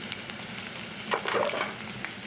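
Onion frying in hot oil with dry red chilli and kalonji (nigella seeds) for a kalmi shak chorchori: a steady close sizzle with a brief burst of stirring and scraping partway through, no voices.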